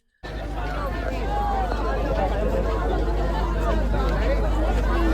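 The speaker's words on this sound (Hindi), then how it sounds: "किस तरह भीड़ उमड़ रही है आर्मी जवानों को देखने के लिए" Dense crowd at an Army Day parade in Jaipur, gathering to see Indian Army soldiers, a loud steady hubbub of many overlapping voices and chatter that begins abruptly and continues without a break.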